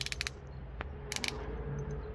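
A Parkside PBSA 12 E4 12V cordless drill with its torque clutch slipping, giving a few quick bursts of close mechanical ratcheting clicks separated by short pauses, alone with no talk.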